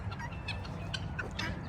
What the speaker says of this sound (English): Go on, birds.